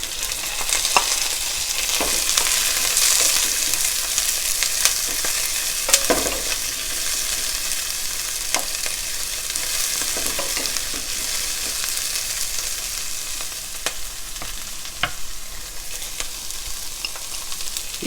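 Chopped onion frying in about two tablespoons of oil in a pan, a steady loud sizzle with occasional sharp clicks of a spatula stirring against the metal, close and continuous with no voices.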